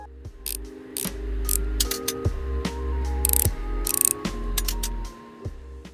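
Clicking, ratcheting mechanical sounds from unscrewing and taking apart an old device in the game ReStory, crisp repeated clicks and short whirring turns with pauses between, close and clear.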